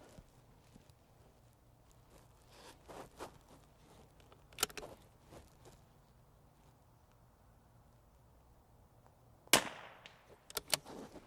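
A rimfire rifle fires at a long-range target outdoors. A single sharp crack stands out against quiet background noise, with a couple of fainter clicks and handling sounds around it.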